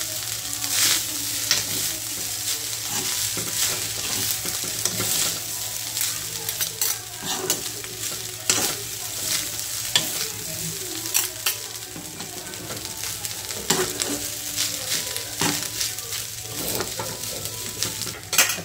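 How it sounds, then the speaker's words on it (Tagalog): Rice and vegetables are stirred in a small frying pan, with a steady sizzle of frying under repeated scraping and clinking of a utensil against the pan throughout. "Haluin na natin siya hanggang sa mahalo ng maigi yung"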